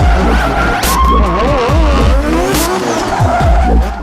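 Drift cars at Red Bull Drift Shifters, a pinball-style drift course, during practice runs: loud close tire squeal and skidding over wailing, rising and falling engine revs, continuous for the whole stretch.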